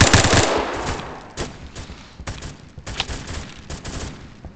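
Rapid assault rifle bursts from the Phantom Forces shooter game, a dense opening volley followed by several shorter, sharp bursts of gunfire spread across the clip, loud and close with no talking.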